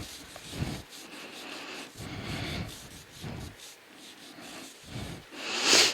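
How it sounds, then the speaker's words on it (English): Hands interlaced in a self massage rub around the knee in soft, close, rhythmic swishing strokes, about four or five passes, each a muffled brushing sound separated by short pauses. "I like to interlace my hands, and you can just rub all around your knee"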